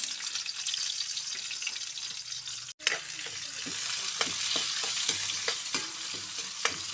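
Onions sautéing in hot cooking oil in a pan give a steady, close sizzle. Scraping stir strokes cut through it, and after a brief break the frying noise returns louder. Nobody speaks.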